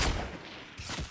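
A rapid burst of gunfire in the video game Fortnite, dense and loud, filling the whole moment without any talk.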